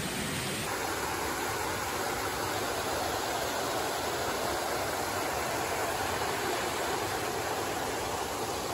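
Comer Creek Falls in the Grayson Highlands along the Appalachian Trail pours as a dense, steady roar of rushing water, loud and unbroken throughout, with no voices.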